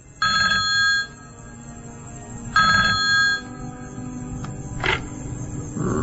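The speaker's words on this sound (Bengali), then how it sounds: "হঠাৎ তার ফোন বেজে উঠল।" A telephone ringing late at night in a dramatized audio story, two bursts of electronic ring tone separated by a pause, loud and close, followed by a brief click.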